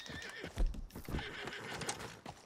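A horse in Red Dead Redemption 2 whinnies and snorts close by while hooves clip-clop in an uneven rhythm, with faint surrounding noise.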